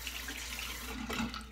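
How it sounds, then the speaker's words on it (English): A tap runs into a sink while a face is rinsed after shaving: steady, close water flow with slight splashing shifts, no talk. "I'm gonna rinse my face off"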